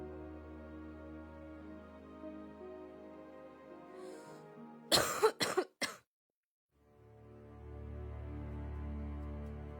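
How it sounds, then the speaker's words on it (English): A girl coughs indoors, a tight cluster of three or four sharp coughs heard at a moderate distance over a soft background hum, followed by a brief silence. "I heard a girl cough inside."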